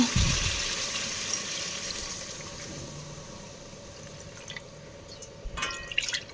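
Water pours into curry cooking in a pot, a soft hissing trickle that fades over several seconds, followed by a few faint clinks and splashes near the end.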